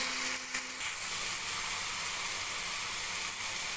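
Masala with sugar stirred in, frying in a pan for a cauliflower roast, gives a steady close hiss and sizzle that runs throughout, with a few brief higher clinks early on.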